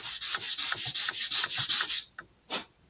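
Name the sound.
sanding a model rocket part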